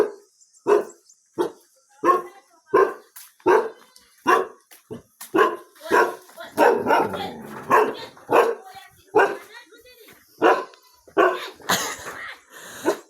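A dog barks repeatedly and loudly at close range, sharp evenly spaced barks running throughout with a brief growly stretch in the middle.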